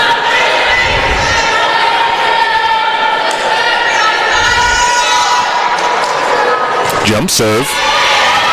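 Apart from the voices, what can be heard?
volleyball crowd cheering in gym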